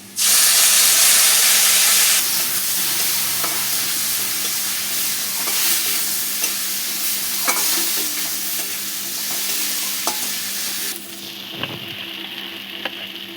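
Hot water poured into a frying taro curry with spices hits the hot pan in a loud burst of hissing steam, then settles into a steady sizzling simmer with occasional stirring clinks, close by.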